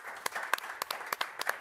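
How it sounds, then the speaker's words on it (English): Audience at an esports grand final in the Aviva Stadium applauds, heard as a moderate, uneven spatter of separate claps with sharp individual hits over a soft background hum. "Give them a round of applause"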